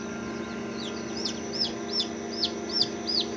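Newly hatched chicks from an incubator peep in a steady series of high, sharp chirps, about one every half second, close by over a constant low hum.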